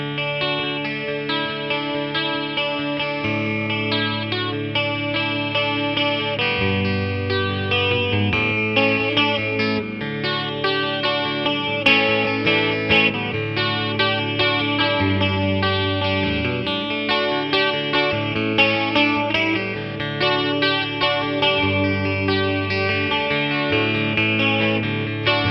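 A jangly, chiming 1985 Fireglo Rickenbacker 330 12-string electric guitar plays a continuous chord progression in the middle pickup position with bright shimmering doubled strings and light chorus, no voices.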